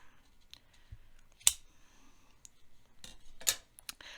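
Scissors cutting through a folded sewn fabric strip for trouser belt loops, a few crisp close snips and clicks spaced irregularly with quiet handling in between.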